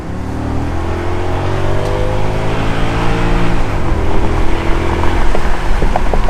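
An Audi S8 with a V10 engine revs hard while driving, its deep multi-toned engine note climbing and holding steady, loud and close throughout with a rising surge near the end.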